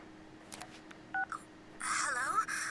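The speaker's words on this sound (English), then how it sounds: "your phone is ringing." A phone rings in the Persona 4 Golden video game: a few short tones sound first, then a loud warbling electronic ringtone rises and holds near the end.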